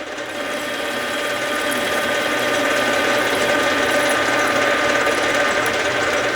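A metal lathe takes an end facing cut, a steady loud mechanical whir with faint ratcheting and cutting noise running continuously and unbroken.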